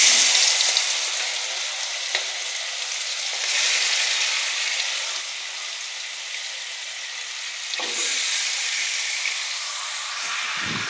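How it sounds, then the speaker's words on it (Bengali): Bombay duck (lote fish) hitting hot oil in a wok, a steady loud sizzle and hiss that swells in bursts around the fourth and eighth seconds, with occasional soft stirring knocks and no voices. "লোটে মাছটা পুরোটাই দেওয়া হয়ে গেছে কড়াইতে।"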